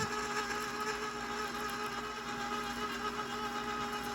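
Electric mixer whirring steadily as it beats red velvet cake batter with eggs, buttermilk and hot coffee, a continuous close motor hum with a high whine and no pauses.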